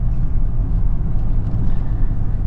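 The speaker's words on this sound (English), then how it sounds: "just hearing that car, just hearing that exhaust tone" A Maserati Ghibli's exhaust note heard from inside while driving, with the gearbox shifting on its own: a steady, deep, rumbling drone with constant loudness and no talk.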